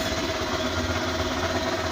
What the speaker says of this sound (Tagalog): meron pang inaayos lang si Eric sa kanyang motor